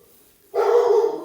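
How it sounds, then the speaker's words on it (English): A single dog bark bursts out suddenly and close by in a quiet indoor room, a loud, sustained yelp lasting under a second before fading. "There's Ada barking, sorry about that."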